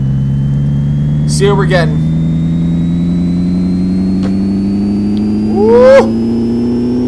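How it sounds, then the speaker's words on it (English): Infiniti G35 engine in the Pixel Car Racer mobile game revving on a dyno, a loud steady drone that climbs gradually in pitch throughout, with a man's brief speech and a whoop over it. "Now let's quickly dyno this."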